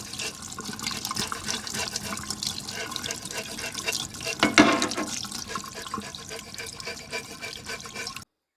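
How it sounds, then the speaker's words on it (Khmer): Running water splashes into a sink as pork is washed and its skin is scraped clean, a close, continuous wet rush with a brief louder splash midway, and no talking. "ខ្ញុំយកទៅដាក់ទៅលាងទឹកឲ្យកោសស្បែកនឹងចេញ"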